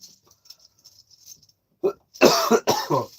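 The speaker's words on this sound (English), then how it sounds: "Yeah, I'm coughing to death." Quiet faint clatter, then a few loud, harsh coughs close up in quick succession.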